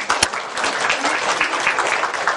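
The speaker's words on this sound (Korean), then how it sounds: "자, 박수 한번 쳐주세요." A classroom applauds a student team about to present in a design course: dense, sustained clapping from many hands across the room, steady and fairly loud, with no voices over it.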